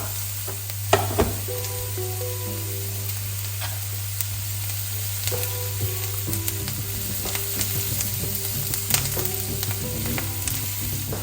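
Onion frying in a pan, a dense, even sizzle with scattered pops and light stirring clatter, near and loud throughout, with a low steady hum behind it and nobody talking.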